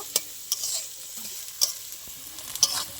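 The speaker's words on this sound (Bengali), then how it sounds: "সব একসাথে ভালো করে ভেজে নেব।" Soft sizzle of onion, garlic and chili frying under a few distinct spoon taps and scrapes in a pan, spaced about a second apart, close by and fairly quiet.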